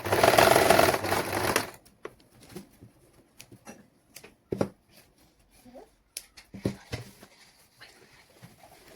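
A sewing machine stitching ribbon onto a cloth baby langot runs in one close, loud burst lasting under two seconds, followed by quiet fabric handling and small clicks.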